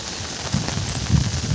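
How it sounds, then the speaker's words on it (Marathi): Heavy morning rain pours down outdoors, a dense, close, continuous hiss with spattering drops hitting surfaces. "पण पाऊस येतोय जास्त"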